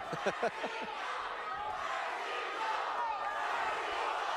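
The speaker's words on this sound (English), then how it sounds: "You hear the crowd yelling, Mercito." Boxing arena crowd at the Mercito Gesta vs. Gilberto Gonzalez fight yelling and chanting as a continuous roar, with a few sharp bursts of shouting at the start and steady mid-level cheering throughout.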